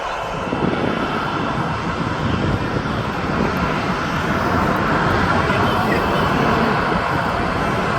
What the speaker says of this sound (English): Then the next one is just come out onto the active runway is the Wizz.